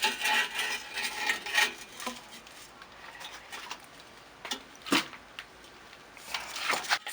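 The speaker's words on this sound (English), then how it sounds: "so I'll use one of these crescent wrenches to turn this" Crescent wrench turning on a ball joint of a 1994-2001 Dodge Ram 1500, giving quiet intermittent rasping and scraping strokes with small ticks and clicks, close but faint, with no talk.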